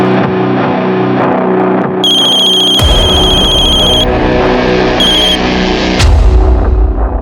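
A telephone rings in a Hindi crime-drama scene, two short electronic ring bursts cutting through loud, dense dramatic music and booming effects.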